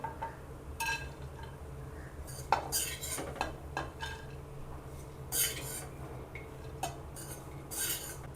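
Roasted dates and dry fruits scooped out of a pan, with intermittent metal spoon scrapes and clinks against the cookware over a quiet background.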